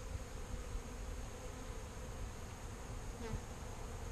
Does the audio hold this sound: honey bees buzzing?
yes